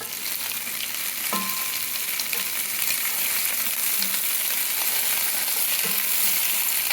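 Shrimp frying in a pan seasoned with salt and pepper, giving a dense, continuous hiss and crackle, with a few soft scrapes as the shrimp are stirred.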